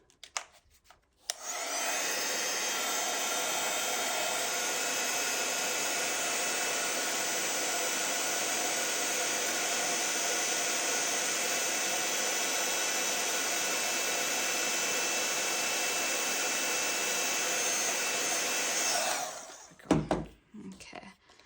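Heat tool blowing hot air over a glittery cardmaking flower embellishment, a steady loud whooshing whir that runs unbroken for most of the clip before switching off, followed by a brief clatter.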